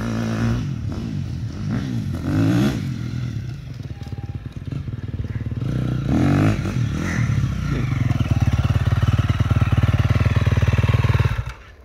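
KTM 350 SXF motocross bike engine running and revving up and down as gears shift, loud and close with a mechanical rattle, then cutting off at the end.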